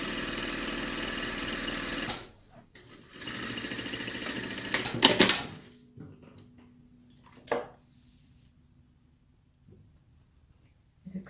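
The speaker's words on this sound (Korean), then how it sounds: "1cm 시접으로 되돌아박기 하고" A sewing machine runs close up in two bursts of rapid, steady whirring stitches while backstitching a 1cm seam allowance, followed by clicks, a brief clack and quiet handling sounds.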